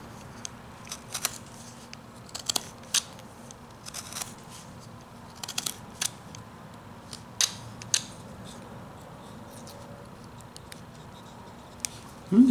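A carving knife trims small bits of wood from a roughed-out carving. It makes a scattered series of short, crisp snips and scrapes, close and fairly quiet, with pauses between cuts.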